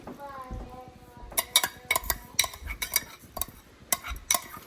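Quinoa stirred with a spoon in a pot of water on a stove, giving a series of sharp, repeated clinks and scrapes at an irregular rhythm, close and fairly loud, after a brief stretch of voiced sound at the start.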